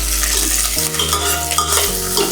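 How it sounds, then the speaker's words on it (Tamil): A ground curry leaf and mustard seed paste sautés in a pan, giving a steady loud sizzle with scraping stir strokes of a spoon against the metal, close up and with no talk. "லைட்டாக அப்படி ஒரு வதக்குங்க."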